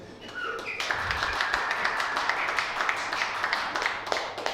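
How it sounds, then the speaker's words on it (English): Audience in a stand-up comedy show clapping hands in sustained, dense applause from about one second on, loud and continuous with crisp overlapping claps. "Gentlemen, please clap hands for the ladies because they control every fucking thing."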